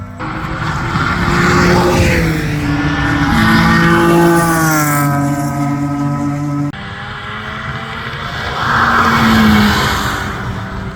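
A loud engine revs up and down in sustained, rising and falling tones, rumbling continuously throughout with no talking.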